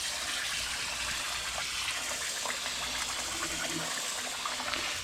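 Rice rinses under running tap water in a kitchen, a steady close gush and splash of water into a pot or bowl that continues without a break, no voice.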